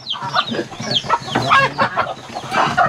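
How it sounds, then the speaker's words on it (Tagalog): Chickens cluck in a busy, irregular stream of short calls, close by and fairly loud, with a few higher squawks mixed in. "Kao dyan yung mga manok."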